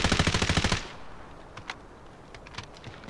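Rapid machine gun burst in the Delta Force video game, about a dozen loud evenly spaced shots in under a second, followed by scattered faint distant gunshots.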